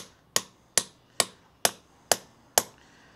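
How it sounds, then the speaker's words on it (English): A big lump hammer drives a limited slip differential into a kit car's rear axle casing, six sharp metallic strikes at a steady rhythm, each ringing briefly before the next, loud and close with no talk. "Which is easier said than done when you've got a big lump hammer."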